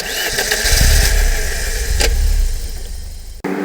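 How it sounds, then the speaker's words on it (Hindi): A car engine starting as a sound effect: a loud cranking burst that settles into a rough, steady running drone, then cuts off sharply near the end before a brief resumption. "वो गाड़ी चला रहा होता है"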